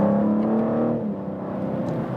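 A BMW M4 engine revs after a downshift while climbing a wet hill road. The engine drones steadily and close by, and its pitch drops partway through.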